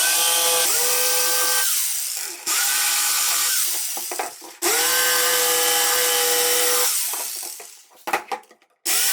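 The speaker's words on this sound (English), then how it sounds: "Then I used a jigsaw to cut out the shape." A jigsaw whines through wood in long loud bursts, stopping and restarting several times, with rattling clatter between cuts.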